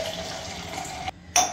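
Water poured into a glass of lemon juice with mint leaves, pepper and salt, a steady close liquid fill lasting about a second, then a brief pause and a short splash.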